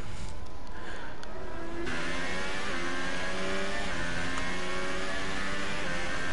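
Formula 1 cars in a racing video game at the Italy circuit drone past with layered engine whine, several cars revving and shifting in overlapping pitches, steady and fairly close throughout.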